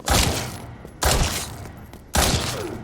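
Three loud handgun shots fired in the Resident Evil Re:Verse video game, each a sharp blast followed by a decaying tail, spaced roughly a second apart with no talk.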